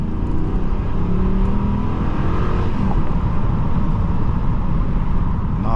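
Engine and road noise of a Ram 1500 pickup with a 5.7-liter Hemi V8 under light acceleration, a loud, steady low drone heard from inside the cab with a faint rising tone and no speech.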